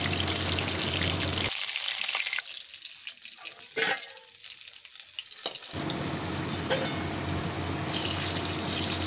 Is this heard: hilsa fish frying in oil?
yes